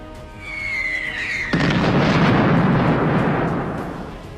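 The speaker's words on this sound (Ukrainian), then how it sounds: "Ще один постріл з артистичною точністю, як в цирку." An M982 Excalibur artillery shell strikes a communication tower, a sudden loud boom that swells into a long rumbling roar, heard at a distance.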